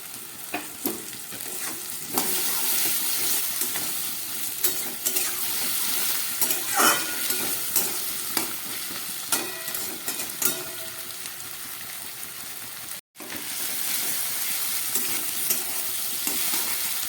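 Chopped tomatoes frying with potato and onion in a pan, a bright, close sizzle with frequent spatula scrapes and clicks, broken by one brief gap of silence.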